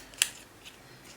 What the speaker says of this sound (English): I was going to take my scissors and cut it.